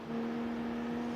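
A BMW in the Car X Street racing game runs flat out at full speed, making a faint, steady, humming engine drone throughout the short moment.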